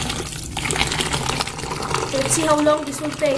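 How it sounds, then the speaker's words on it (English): Water poured from a tap into a bucket of ice, a continuous splashing, filling rush with rising gurgle near the end, while someone talks over it. "so I'll just add some water now"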